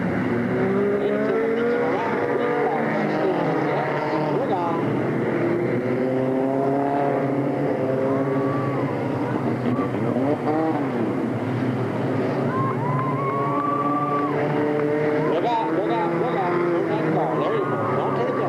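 Race cars roar around Delta Speedway at an October 1996 oval race, engines droning and shifting pitch as they pass, continuous under an excited announcer's commentary.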